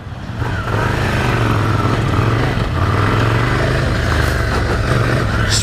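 A 2017 Ducati Scrambler Desert Sled on Scorpion trail tires rides through puddles, its loud, steady engine drone carrying throughout with splashy hiss layered over it.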